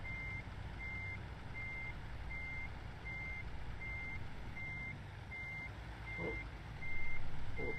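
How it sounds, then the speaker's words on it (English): A truck in American Truck Simulator backs a trailer into place, its reversing alarm beeping at a steady even pace over a low engine rumble, with a brief louder surge near the end. "I'm going to have to reverse over a bit of a gutter to get this trailer in."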